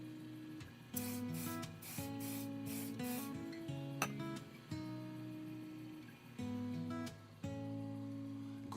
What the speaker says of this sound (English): As soon as that stuff hits it, just psst, psst, that's it.